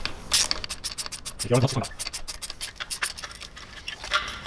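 A ratchet socket wrench works loose exhaust nuts on a BMW S54 engine, its rapid metallic clicks rattling in quick bursts close by, with scraping and clinking of tools between strokes.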